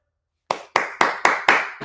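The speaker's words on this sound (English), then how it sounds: "I'm clapping by myself" One person claps alone by a microphone, six crisp evenly spaced claps about a quarter second apart, with no speech.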